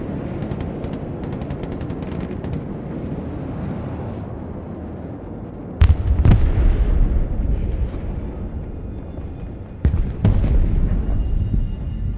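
Ballistic missiles strike in the Broken Arrow military strategy game. Two heavy explosions land a few seconds apart, each a loud sudden blast followed by deep rumbling, over a constant roar of battle noise.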